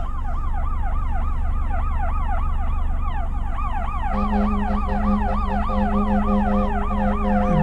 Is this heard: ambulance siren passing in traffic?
yes